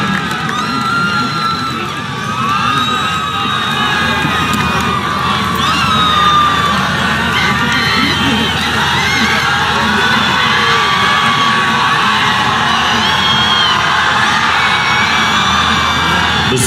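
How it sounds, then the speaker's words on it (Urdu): Large audience at a Taleem aur Hunar Sath Sath orientation event cheering, whooping and applauding as PTI chairman Imran Khan is invited to the stage, a loud sustained roar of claps and shouts with no talk. "آپ کی بھرپور تالیوں میں دعوت دوں گا chairman P I T V سابق وزیر اعظم عمران خان."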